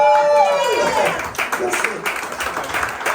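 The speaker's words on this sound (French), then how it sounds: "Merci, on peut l'applaudir" Audience applause at a live event, broadband clapping noise building under a voice that trails off early, then continuing as a dense, steady crowd clatter to the end.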